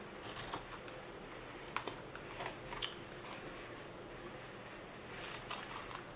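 Scissors snip into paper while trimming a handmade stamped gift box, quiet scattered crisp cuts with small rustling in between.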